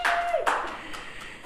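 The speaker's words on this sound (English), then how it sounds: "So let's give her a clap." Short burst of audience clapping at a sports awards presentation, opening with a bright tone that slides away, then scattered claps fading out.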